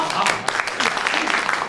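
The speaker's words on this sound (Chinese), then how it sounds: "咱们给七叔来点掌声。" A group claps for an elderly uncle in a village setting: a short burst of scattered, fairly close applause, with some talk mixed in.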